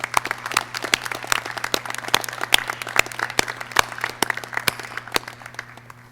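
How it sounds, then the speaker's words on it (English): Round of applause from the audience at a police academy pinning ceremony, individual claps clearly separated and fairly sparse, with a steady low hum underneath throughout. "they would like to thank you with a round of applause"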